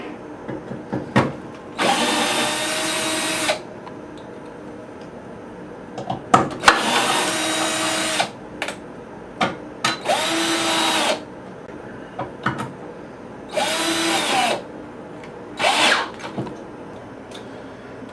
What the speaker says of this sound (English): you have to have a number 4 metric bit to be able to pull off the screws